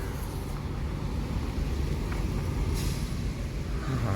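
A Ramayana bus idles and pulls away from a muddy, rain-soaked bus pool, its engine a steady low rumble with a faint hiss of air partway through, heard at moderate distance without talk.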